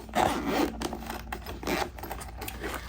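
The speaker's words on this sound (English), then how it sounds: "Just going to go ahead and unzip it." A zipper rasps open in several short pulls around a soft hard carrying case for a LASFIT TK1 portable air inflator, close and clear, with faint rustling in between.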